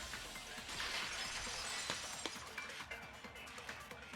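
A vase shatters in Danganronpa 2: Goodbye Despair, a sustained spray of breaking glassy fragments and clinks with scattered sharp tinkles that gradually thin out, fairly quiet.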